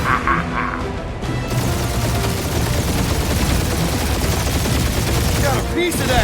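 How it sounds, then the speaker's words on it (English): Heavy gunfire in the Guardians of the Galaxy video game, a dense sustained barrage of shots and impacts with a voice calling out over it early on. "Taking fire!"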